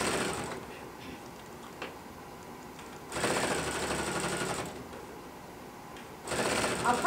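A Pfaff sewing machine with a binder attachment sews a hooded bath towel, running close in two bursts of rapid even stitching between quieter pauses with faint handling.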